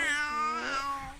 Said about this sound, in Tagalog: Parang pusa.